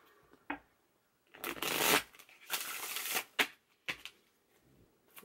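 Tarot cards are shuffled close by in several bursts: a long riffling rush, another extended shuffle, then short crisp flicks and taps, loud and clear with no talking.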